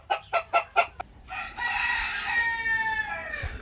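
A Brahma rooster kept for laying crows once and clucks, with a quick run of four sharp clucks followed by a long drawn-out crow, close and fairly loud, with no talking.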